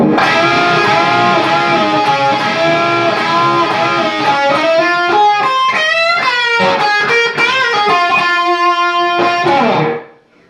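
Distorted electric guitar plays the opening of a guitar solo, a lead line with sliding, bending notes, loud and up close, ending abruptly.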